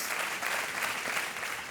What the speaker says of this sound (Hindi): तालियों के साथ इनका अभिनंदन किया जाए देवियों से।